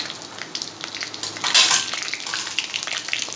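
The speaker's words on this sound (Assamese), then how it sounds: "ইয়াত মই এতিয়া জিৰা, ইলাচি, ডালচেনি আৰু তেজপাতখিনি গোটেইখিনি একেলগে দি দিছোঁ।" Whole spices, cumin, cardamom, cinnamon and bay leaves, crackle and sizzle in hot refined oil for a chicken curry, a busy frying hiss with a brief louder burst and light stirring clinks.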